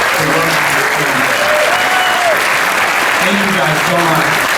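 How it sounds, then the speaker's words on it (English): Audience applause at a premiere panel for a documentary, a sustained, loud burst of clapping from a sizable crowd, with voices talking beneath it. "Just a round of applause for everybody who had a chance to work on it."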